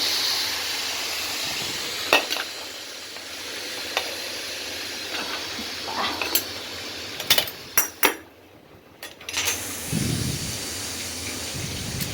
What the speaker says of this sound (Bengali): এদিকে আমার প্রেশার কুকার থেকে গ্যাস বের করতে হলো